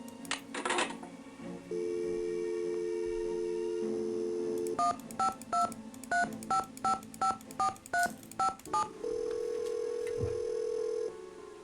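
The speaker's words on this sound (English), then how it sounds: "I can dial that phone number without even looking" A telephone in the Nancy Drew: Secrets Can Kill video game, with a steady dial tone, then a quick string of about a dozen touch-tone beeps as a number is dialed, followed by a ringing tone, clear and close with no talk.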